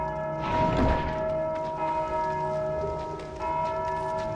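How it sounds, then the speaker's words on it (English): Bell ringing in Dark Souls 2, sustained tonal peals with stacked harmonics and repeated strikes ringing on through the clip, loud and fairly close over a game ambience, with no talking. "if you can hear them, they keep ringing that bell because their AI is programmed that"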